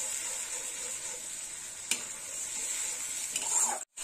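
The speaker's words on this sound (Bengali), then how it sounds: "এবার টমেটো বাটাটা একটু ভালো করে কষা হবে।" Ground tomato paste fries with a steady sizzle in a pan as a spoon stirs it, with a couple of sharp clinks of utensil against the pan near the end.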